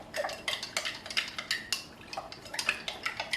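A spoon clinks and scrapes repeatedly against a bowl while veal stock is stirred together with water, the quick irregular taps close and fairly crisp with no talking.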